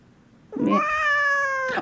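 A cat gives one drawn-out, rising meow lasting over a second, close and clear against a quiet room after a short pause.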